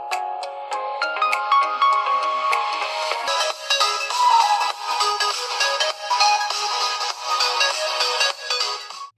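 Samsung Galaxy M01s playing a ringtone through its loudspeaker at full volume: a bright, melodic electronic tune with quick plucked notes building into a fuller, busier passage, thin and tinny with no bass, stopping abruptly at the end.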